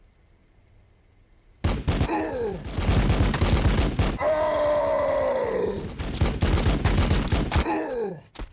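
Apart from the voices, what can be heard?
Assault Cannon gunfire sound effect, Warhammer 40,000 battle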